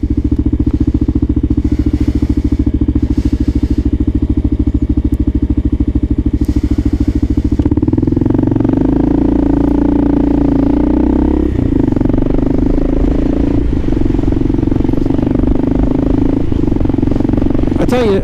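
A Kawasaki KLR650 motorcycle is ridden in winter cold, its single-cylinder engine thumping loudly and steadily close up, with the pitch shifting partway through as the ride changes pace, accompanied by mechanical clatter.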